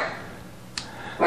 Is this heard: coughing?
no